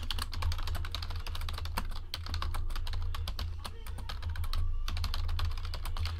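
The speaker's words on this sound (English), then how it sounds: "So let me type that into the chat." Computer keyboard being typed on steadily and quickly, a dense run of close clicking keystrokes over a low background hum, with a voice faintly heard now and then.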